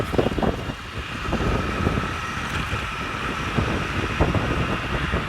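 A motorcycle ridden slowly past the gate of Islamic University, its engine a steady low rumble mixed with wind noise and passing road sound, continuous and close throughout.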